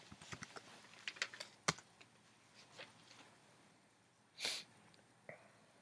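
Quiet, close keystrokes on a computer keyboard come in a quick burst of taps, then a few isolated clicks, with a brief breathy noise near the end.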